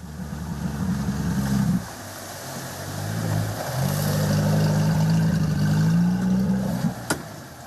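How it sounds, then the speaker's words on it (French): Outboard boat motors rev and accelerate to push over mats of floating vegetation in the Kaw marshes of French Guiana, a loud close engine whine that dips, then climbs and holds strongly before cutting off. "soulever les moteurs plusieurs dizaines de fois à chaque trajet et prendre le risque d'accélérer pour passer par-dessus ces tapis de végétation"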